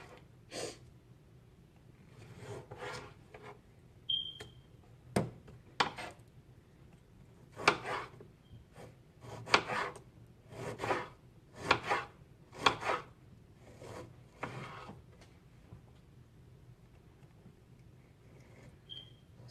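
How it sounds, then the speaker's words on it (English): A serrated knife slices through vine-ripe tomatoes in a series of about a dozen short, irregular sawing strokes, close and fairly crisp, with no one speaking. "You really want to use a serrated knife when you cut tomatoes"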